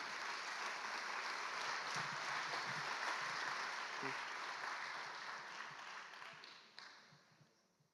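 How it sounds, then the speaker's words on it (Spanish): A church congregation applauds at length, a dense wash of clapping that holds steady before thinning out and fading toward the end, with a few scattered voices in the background. "Dale un aplauso al Señor."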